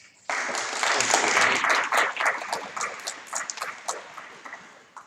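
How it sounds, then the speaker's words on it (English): Applause from a seated audience at the close of a workshop talk starts abruptly, swells into dense clapping, then thins to scattered claps and fades; the room is otherwise quiet. "And applause."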